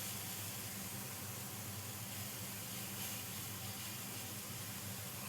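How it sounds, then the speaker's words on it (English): Steady sizzling hiss of steam rising off smash burger patties, one topped with caramelised onions, on a hot griddle; continuous and close, with no talking. "that steam is going to just heat those up"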